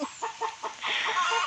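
A chicken gives a quick run of four or five rhythmic clucks close by, then a longer, steadier squawking call, with no speech.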